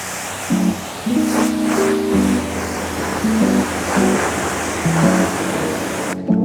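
A hose sprays water across a car's bodywork during a rinse, making a steady, close hissing wash, with faint low tones showing through in places.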